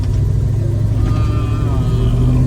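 A 1972 Dodge Challenger engine pulls along on a road test drive, giving a steady, loud low rumble throughout with a faint rising tone woven into it.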